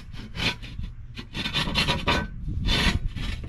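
Thick, heavy quarter-inch steel plate scraping and grating as it is pushed into a tight slot in a cinder block grill, several rasping bursts of metal on block, close and loud, no talk.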